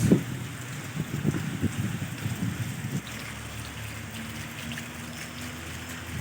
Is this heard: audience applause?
no